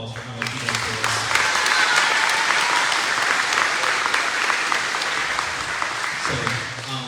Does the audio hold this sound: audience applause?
yes